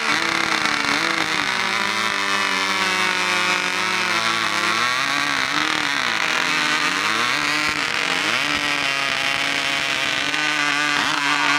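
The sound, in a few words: chainsaws revving and cutting wood in a lumberjack race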